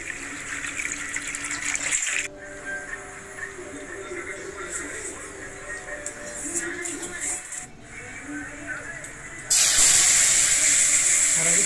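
Milk for payesh is poured into a pan on the gas stove, a steady liquid gush and hiss heard close up over background kitchen noise, ending in a louder, brighter rushing pour.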